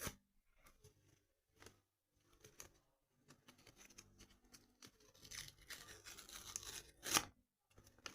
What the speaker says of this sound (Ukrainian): Ось наш пакетик відкриваємо.